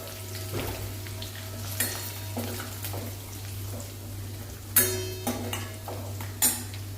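Ingredients roasting in a pan during home cooking, a steady low sizzle with hum underneath and a few sharp clinks and scrapes of a utensil against the pan, fairly close and with no talk.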